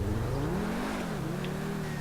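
Modded Pegassi supercar engine in Grand Theft Auto 5, tuned to sound like the Tempesta, revving and holding a steady, fairly loud drone with a shifting pitch over about two seconds.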